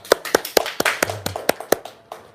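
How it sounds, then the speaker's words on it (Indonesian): A single person claps hands close by, roughly ten sharp distinct claps in a loose, uneven rhythm with brief gaps, no other voices over them. "Tepuk tangan dulu dong."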